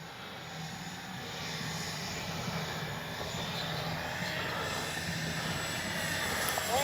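A Hobbyking Flycat V2 RC jet in flight, its engine a steady whooshing drone at moderate distance that slowly grows louder, with a faint high whine above it and no talking.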